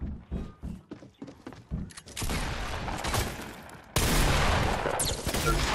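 Dense, sustained gunfire in a video game, starting after a few scattered thumps and growing into a loud continuous barrage of rapid shots that swells louder partway through, with no clear talk over it.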